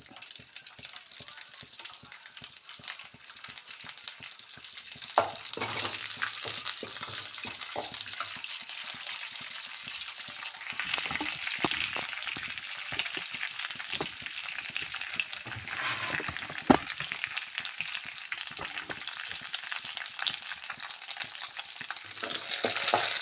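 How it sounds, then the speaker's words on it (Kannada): Mustard seeds and dried red chillies crackle and sizzle in hot oil, a continuous popping hiss with occasional stirring clicks and one sharp tap, close by. "ಒಗ್ಗರಣೆ ಫ್ರೈ ಆಗ್ತಿದ್ದ ಹಾಗೆ"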